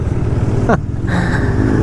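A short, loud motorcycle engine rev rises sharply in pitch and then drops away, with a steady rumble continuing around it.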